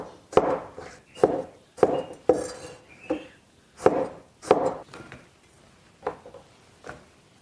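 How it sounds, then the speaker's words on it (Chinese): A knife chops fresh local purple eggplant into even strips on a board: a dozen or so sharp, close chops in an uneven rhythm, some in quick pairs, with short pauses between. "切成大小均匀的条"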